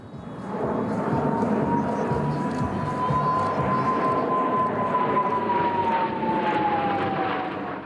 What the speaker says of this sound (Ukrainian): Хмари розсікали понад 20 літаків.